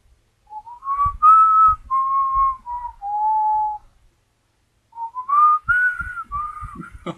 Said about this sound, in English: My whistling failed me there, but that was the Shire theme.